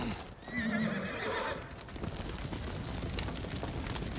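A horse whinnies loudly early on, followed by steady clip-clop of hooves as it is ridden in the samurai game Ghost of Tsushima, with game ambience continuing beneath.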